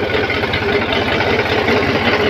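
A Sonalika tractor engine keeps running with a slipping clutch plate, a steady, loud, close mechanical drone with an even low pulsing throb that holds without a break.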